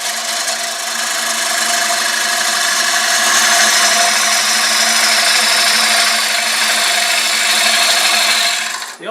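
A wood lathe turning a workpiece as a tool cuts along it, a steady, loud, continuous scraping and whirring with a constant hum beneath, uninterrupted until it breaks off at the very end.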